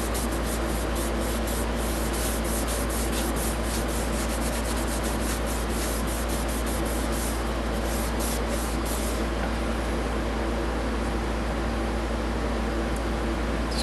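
Steady hissing rub of finish being worked by hand across a turquoise platter, a continuous close, fairly quiet friction with no talking.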